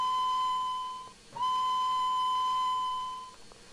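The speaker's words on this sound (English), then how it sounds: "Whistle, it's alright." A steam locomotive whistle in the Trainz 2022 train simulator sounds a high, slightly squeaky steady tone, cut off briefly, then blows again in a long sustained note that fades out without a clear ending.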